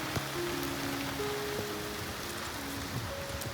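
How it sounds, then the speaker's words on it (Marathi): Monsoon raindrops patter steadily on a surface outdoors near Kondeshwar Temple in Badlapur, a dense, even hiss of rain with a few faint tonal hums beneath and no talking. "पावसाचे पण थेंब पडतात हे बघा."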